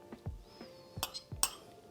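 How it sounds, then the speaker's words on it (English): A fork whisking an egg in a glass or ceramic bowl for a ricotta crumble cake batter, a few light sharp clinks and taps close up and fairly quiet. "I'm going to just gently whisk mine up with a fork."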